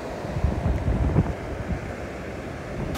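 Low sea waves and wind at Bessa beach in João Pessoa during calm low tide, a steady, fairly quiet rumble of surf with buffeting wind noise against the microphone and no voices.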